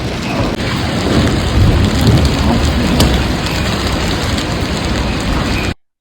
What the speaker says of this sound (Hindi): आंधी, तूफ़ान और बारिश भी होने वाली है